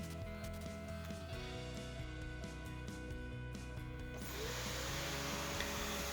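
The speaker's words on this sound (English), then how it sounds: "When you start to vacuum," A vacuum cleaner runs steadily while cleaning a car interior, giving a constant droning whine that shifts to a harsher, airier rush near the end as the nozzle meets the upholstery.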